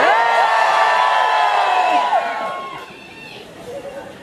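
A crowd at a march arriving in Fuentidueña from Tarancón shouts and cheers loudly, a sustained roar of many voices with whoops that fades gradually toward the end.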